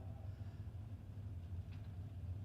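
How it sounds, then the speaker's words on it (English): A hot rod's engine and exhaust at a drag racing shootout idle with a steady low rumble, close and continuous with no talk over it. "Good sound and exhaust on Dan Wally's hot rod"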